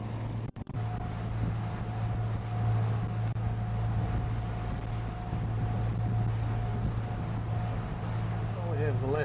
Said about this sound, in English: it is quite windy out here